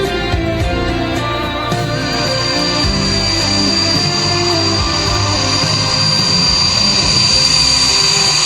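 An Indian Air Force fighter jet roars over the Purvanchal Expressway, a loud continuous engine rumble with a high whine that holds steady and swells slightly, with no voices.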